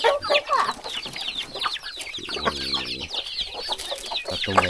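Farm chickens out in the rice fields at dusk, clucking busily and close, with one longer drawn-out call standing out in the middle of the repeated clucks.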